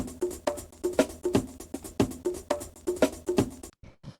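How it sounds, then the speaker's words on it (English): Chopped drum break samples play in a busy, shuffling pattern of kicks, snares and hi-hats, loud and close, ending abruptly with a brief tail. "I took some chopped up parts of a drum break and put them in this rack"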